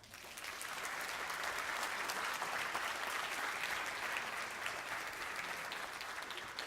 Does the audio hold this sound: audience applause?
yes